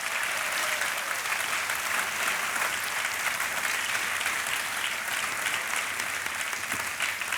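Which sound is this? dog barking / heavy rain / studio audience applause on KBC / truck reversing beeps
studio audience applause on KBC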